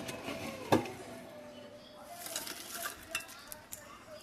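Chanachur tipped into a bowl of jhal muri and mixed, with one sharp clatter of a utensil against the bowl followed by soft scraping and stirring, close and fairly quiet.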